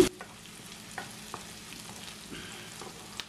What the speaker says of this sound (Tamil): இப்போ ஒரு 4 நிமிஷமா வதங்கி கொண்டிருக்கு. எண்ணெய் லைட்லி கோல்டன் ப்ரௌனா வரணும்.